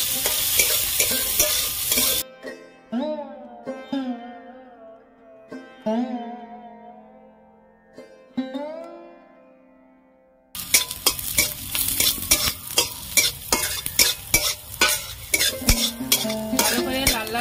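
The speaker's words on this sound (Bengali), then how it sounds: "আদা কুচি, কাঁচা লঙ্কা কুচি, ভালো করে ভেজে নেব।" Chopped ginger and green chili fry in hot oil with a steady sizzle while a spoon stirs and scrapes the pan in repeated strokes; a quieter stretch in the middle carries only faint clinks before loud frying resumes.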